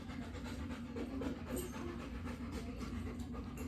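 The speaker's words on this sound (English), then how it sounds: "All I can hear is your panting." A dog pants rapidly and steadily, close by, the quick breaths running continuously without pause.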